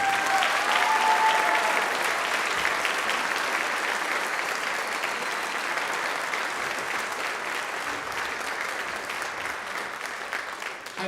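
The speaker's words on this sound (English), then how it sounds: "So one more big round of applause to the seniors." Concert audience at a high school band concert applauds warmly for the seniors, a long, even wash of many hands clapping that holds steady for about eleven seconds before easing slightly.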